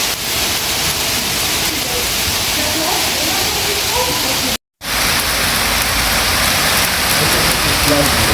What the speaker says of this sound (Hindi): एकदम से बारिश तेज़ हुई भी हो रही है तेज़। साथ साथ देख रहे हैं आप जी ओले छोटे छोटे